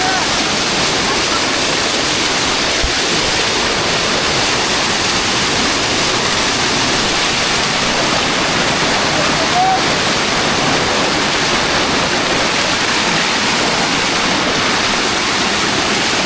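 A monsoon-swollen river rushes hard after days of heavy rain, a loud, unbroken roar of churning water close by throughout, with no speech.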